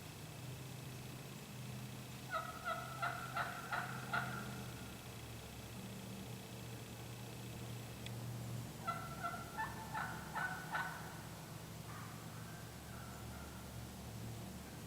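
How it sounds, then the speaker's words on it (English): A wild hen turkey on Ohio public land clucks in short rhythmic bursts, two clear runs of sharp clucks several seconds apart, fairly near but quiet over a low outdoor hum, with no talk. "This hen up here behind me, clucking."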